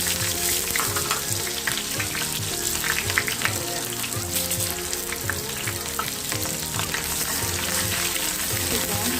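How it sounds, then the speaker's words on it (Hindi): Onions drop into hot oil and sizzle loudly and evenly, a dense close frying hiss that runs the whole time, with an underlying rhythmic low pattern, and no speech. "यहाँ पे तेल गरम हो गया, मैं डाल रही हूँ यहाँ पे प्याज।"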